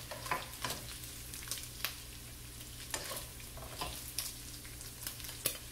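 Bacon grease sizzling in a pan for garlic fried rice, a steady close frying hiss punctuated by scattered crackles and light stirring scrapes.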